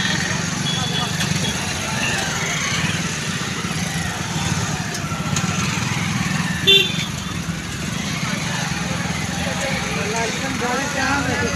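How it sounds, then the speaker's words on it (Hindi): Dense, steady traffic at a crowded Dhanbad fair, with cars and motorcycles rumbling continuously and a brief horn toot partway through, voices chattering throughout. "देख सकते हैं यहाँ पे कितना ट्रैफिक है, गाड़ी पार होने का भी जगह नहीं है"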